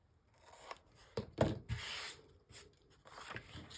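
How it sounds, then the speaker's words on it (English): Scissors snip through old book pages along drawn pencil lines, several crisp close cuts separated by quiet pauses and light paper rustling. "then I shall cut along the lines like so"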